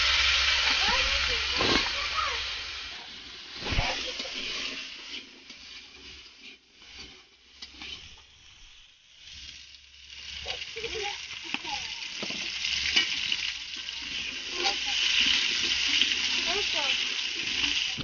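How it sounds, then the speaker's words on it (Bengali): Potatoes frying in oil in a pan, giving a steady hiss and sizzle with bursts of spattering across the whole stretch, up close and fairly loud, with no voices over it. "তো আমাদের আলু ভাজাটাও প্রায় শেষের দিকে চলে এসেছে"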